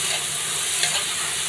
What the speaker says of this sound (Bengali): ডালটা আমি একটু হলুদ আর একটু লবণ দিয়েছি, হালকা করে একটু নেড়ে নিচ্ছি।